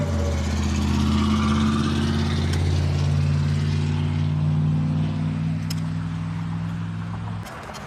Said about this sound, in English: The old hit and miss engine.